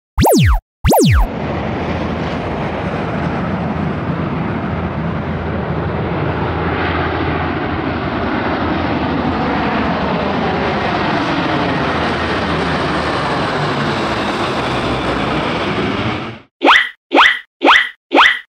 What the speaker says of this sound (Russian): Великолепно! Военный самолет!